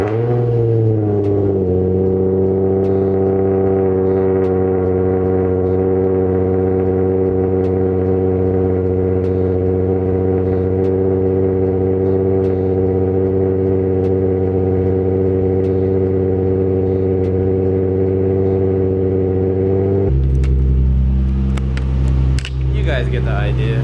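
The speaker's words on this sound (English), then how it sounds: "I'm gonna have to give you guys that cold start" A car with a Tomei exhaust cold-starts and holds a loud, steady idle with a strong droning hum for about twenty seconds, then drops to a lower, rougher note near the end.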